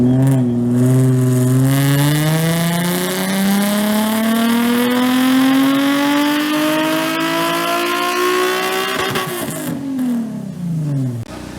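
Nissan 350Z running on E85 fuel makes a dyno pull at a tuning shop, the engine rising in a loud, steady climb through the revs before cutting off and dropping back near the end.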